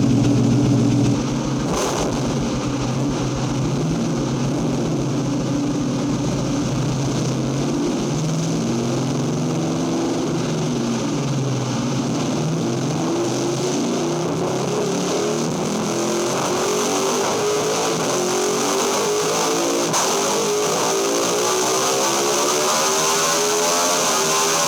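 A crash-damaged Ducati V2 Panigale motorcycle engine runs steadily at close range. The engine note is loud and continuous, and its pitch rises and falls slightly as the revs change, with no speech.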